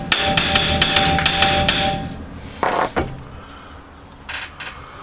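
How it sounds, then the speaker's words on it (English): A light hammer pounds a seized steering knuckle spindle during XJ hub removal. A quick run of close, ringing metal strikes is followed by a few duller thuds and quieter taps, with no talking. "And I'm not using a real heavy hammer"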